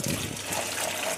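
Two cups of water pour steadily into boxed coconut milk while bubur sumsum is being made, a continuous close splashing trickle.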